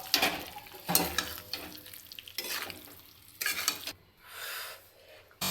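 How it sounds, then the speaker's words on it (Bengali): Jackfruit and potato fry in an oiled pan, with several loud, rhythmic scraping stirs separated by quieter sizzling pauses. "এবার আমি এর মধ্যে এঁচুড় আর আলুটা পুরো তুলে দিলাম।"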